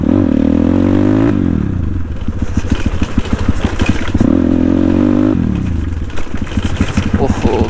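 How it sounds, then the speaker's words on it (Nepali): A motorcycle engine revs hard in repeated rising bursts and settles into a throbbing idle between them, loud and close, while people talk over it. "ओहो बाइक त के हो यस्तो"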